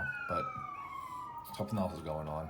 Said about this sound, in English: I don't know if you can hear the sirens going on right now